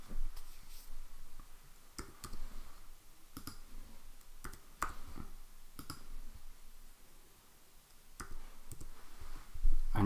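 Mouse clicks while a Quizizz maths quiz is being edited on a computer: sharp, isolated clicks, some in quick pairs, spaced irregularly over a quiet room background.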